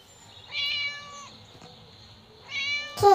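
A cat locked in a cupboard meows twice in the video game Scary Teacher 3D, each call drawn out and clear with a quiet pause between them, ending in an abrupt louder sound.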